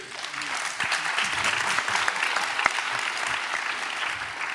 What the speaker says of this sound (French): Montpellier, vous applaudissez en permanence